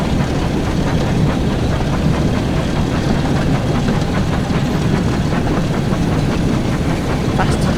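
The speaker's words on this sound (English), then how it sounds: "It sounds like his engine's definitely working." A Class 08 diesel shunter in Train Sim World 5 runs with a loud, continuous engine drone, a dense rumbling chug that holds steady throughout with no breaks.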